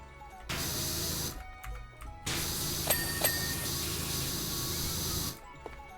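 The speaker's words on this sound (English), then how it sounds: "I need to spray water into this person's house to make sure that I cleaned it" A pressure washer sprays water while cleaning a house, a loud steady hissing rush in two long bursts with a short pause between them, no talking over it.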